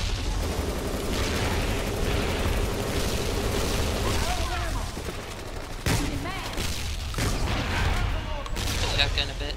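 An STG-44 rifle in the Zombies Monsters Robots game fires in rapid bursts of loud, close gunshots with mechanical clatter, brief pauses between volleys, and someone talking over parts of it.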